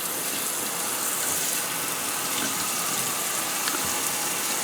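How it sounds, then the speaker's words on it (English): Hot water from a Wee Wee brand kitchen faucet runs in a steady, even gush with no breaks, moderately loud and close, with no voices. "Let's get some hot water going here."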